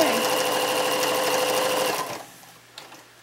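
Sewing machine stitching fabric for pajama bottoms, a steady close mechanical whir that runs for about two seconds before stopping, followed by a faint click.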